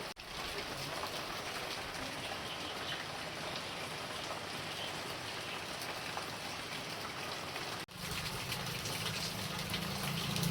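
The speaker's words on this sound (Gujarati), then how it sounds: "વરસાદ એકદમ બરાબર ચાલુ થઈ ગયો છે" Heavy rain pours down in a dense, steady roar with no voices. The wash of sound briefly dips near the end, then comes back slightly fuller.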